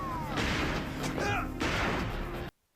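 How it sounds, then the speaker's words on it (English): Gunfire from a TV drama scene, several loud sharp shots and impacts in quick succession over dense background sound, ending abruptly in near silence. "He's shooting him in the back."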